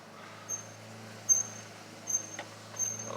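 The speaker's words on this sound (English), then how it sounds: "Sounds like I got a squeaky brake." A squeaky car brake gives faint, high-pitched squeals that repeat roughly every second over a low, steady rumble of the moving vehicle, with no talking.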